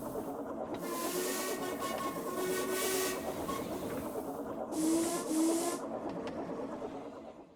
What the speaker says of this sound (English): a booming whistle in the distance. It grew longer and louder, and soon Murdoch shrieked through with a heavy goods train